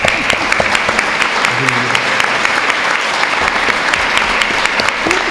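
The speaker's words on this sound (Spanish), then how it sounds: "Vamos a agradecer a Aurora con un aplauso." An audience at a tribute event breaks into sustained applause, dense and even clapping from a crowd that fills the whole stretch at steady loudness.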